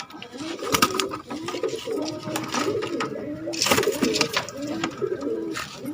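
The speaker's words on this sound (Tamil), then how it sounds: "இதுதான் எங்கள் ஏரியா தாமரை இனத்து புறாக்கள்." Thamarai breed pigeons in Kanyakumari district coo repeatedly at close range, several birds making overlapping throaty rolling calls in an irregular rhythm, with faint rustling and clatter mixed in.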